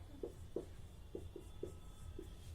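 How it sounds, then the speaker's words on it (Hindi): Faint marker or chalk strokes on a board in a classroom-style lesson, a series of short scratchy taps spaced irregularly over a quiet room hum. "थोड़ा सा स्पेस पे लिखते हैं"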